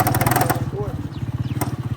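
Close up, a moving motorcycle's engine throbs in a fast, regular pulse while the ride continues, and a person talks over the steady beat.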